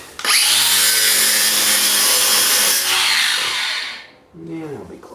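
A metal cutter grinds loudly through a piece of steel during repair work on a stone house, a steady harsh whine lasting several seconds before winding down, followed by brief talk.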